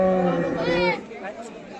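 HF Denmark-breed cows at a busy cattle market, one giving a short low moo that fades under nearby people chatting.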